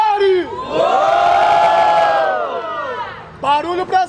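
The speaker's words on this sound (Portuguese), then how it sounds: "Barulho pras rimas do Jafari" A large crowd roars, cheers and shouts together for several seconds at the grand final of a Brazilian rap battle, swelling then fading, with a host's voice shouting over it at the start and end.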